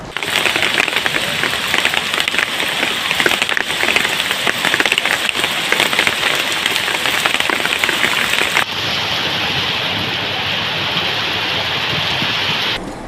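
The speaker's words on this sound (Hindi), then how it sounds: "आज पानी के साथ साथ नींबू के आकार के ओले भी गिरे हैं" Heavy rain mixed with lemon-sized hailstones falls on an outdoor surface in a dense, loud, continuous hiss and patter that eases slightly near the end.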